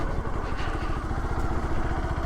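A motorcycle rides over a broken, muddy rural road on a rainy day, its engine a close, steady chugging rumble with rattling clatter from the rough surface, heard alone.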